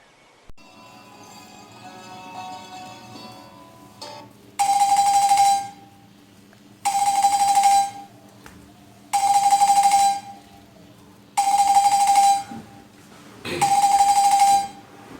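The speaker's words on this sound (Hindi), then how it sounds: "हाँ जी, किसका फोन है?" A phone rings in five regular bursts of roughly a second each, loud and close, with a low steady background hum beneath and no talk during the rings.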